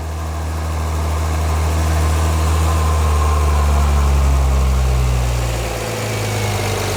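A Volvo T6 engine fitted with a custom-built air intake idles steadily, a loud, close, deep rumble with a constant drone and airy intake rush, swelling slightly before easing toward the end.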